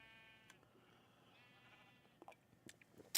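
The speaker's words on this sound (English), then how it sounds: "I assume y'all can hear the sheep in the background." Sheep bleating faintly in the background of a quiet room, one drawn-out wavering bleat early on followed by a few soft clicks and a sharp tap at the end.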